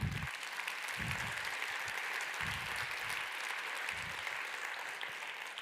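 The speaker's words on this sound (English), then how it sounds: "Can you give a round of applause for those guys?" An audience at a business accountability talk claps steadily for several seconds, a dense continuous wash of hand claps that holds at an even level and then eases slightly.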